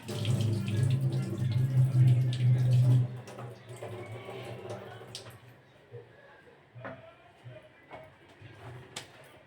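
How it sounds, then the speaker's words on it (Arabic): Hands are rinsed under running tap water in a home kitchen while a chocolate flan cake is being made; the water flows steadily for about three seconds, then stops, followed by faint handling sounds. "كما كتشوفوا نغسل يديا"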